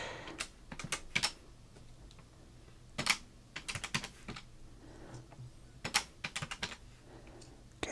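Close, crisp computer keyboard typing while pricing 1988 Topps football cards, with bursts of rapid clicks separated by short pauses over a faint steady background hum.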